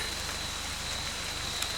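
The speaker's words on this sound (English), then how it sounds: "The rain's eased a little bit." Light rain easing after a heavy shower, falling steadily on surfaces outdoors as a soft, even hiss that holds at the same level throughout with no talking.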